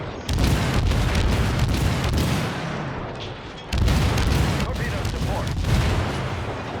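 Torpedo spreads striking warships in the naval combat game World of Warships, a dense stream of loud booms and impacts that dips briefly, then surges back, with talk running underneath.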